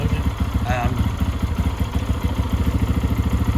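A KPX 250 dual sport motorcycle's fuel-injected engine idles right after starting, a steady close-up low throb with a fast regular pulse throughout, with a brief voice over it near the start.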